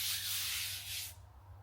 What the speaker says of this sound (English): sanding it off now